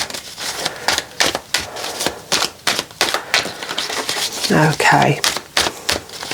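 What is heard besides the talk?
tarot cards being shuffled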